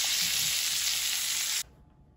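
A ribeye steak being butter-basted in a hot pan gives a loud, steady, close sizzle that cuts off abruptly after about a second and a half, leaving near silence.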